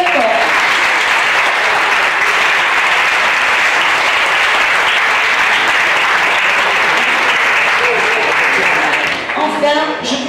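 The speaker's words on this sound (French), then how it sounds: "je vous demande de l'applaudir très fort" Loud, sustained applause from a crowd at an end-of-year village show and festival, a dense unbroken roar of clapping for about nine seconds that thins and breaks off near the end.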